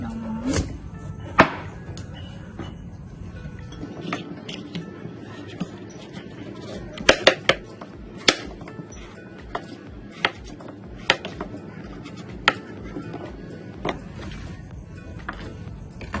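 A knife cuts a seeded pumpkin into chunks, making sparse, irregular sharp knocks and thuds against a board at close range, separated by quiet pauses.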